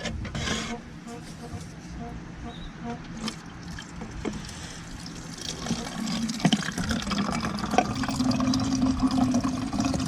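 River water drawn from the San Juan River runs through a brand new portable water filter, a soft trickling and rubbing sound close by, with someone talking intermittently over it.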